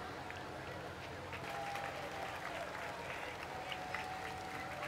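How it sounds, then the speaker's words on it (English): Parade spectators applauding along the route of the Edison Festival of Light Grand Parade as veterans ride past, a continuous distant wash of clapping with faint voices mixed in. "The applause gets me every time."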